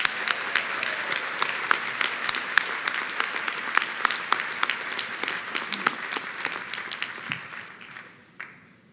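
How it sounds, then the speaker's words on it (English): Sustained audience applause fills a commencement ceremony for about eight seconds, with dense clapping and sharp individual claps, fading out toward the end. "Please join me in applauding Dr. Rivkin for her 20 years of distinguished service."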